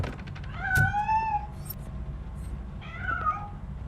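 A cat in the game RoboCop Rogue City, hiding inside a piano, gives two clear drawn-out meows, one early and one near the end, fairly close over a faint low background hum.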